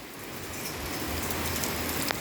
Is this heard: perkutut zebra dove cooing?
no